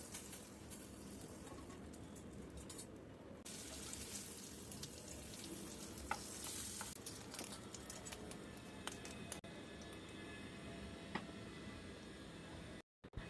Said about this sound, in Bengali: এক পিঠ হয়ে গেলে অপর পিঠ উল্টে ওই পিঠটাও ভেজে নিচ্ছি